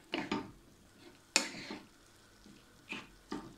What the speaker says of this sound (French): on va bien mélanger